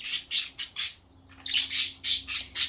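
Pet budgies give a series of loud, harsh squawks in rapid bursts, about nine calls across a few seconds with a short pause midway, close by and with no voices.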